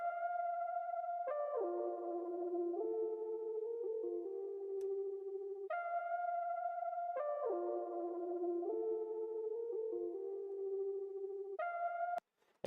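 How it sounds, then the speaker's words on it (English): A soft synth layer sits in the background of a hip-hop type beat, playing a repeating descending melodic phrase with sustained tones and echo tails, alone and faint, with the same figure looping every few seconds. "So we bring in this synth."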